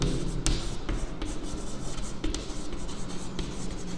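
Pen writing by hand on paper while working a maths logic exercise, a steady scratchy scribble with short strokes and taps, close and continuous, no talk.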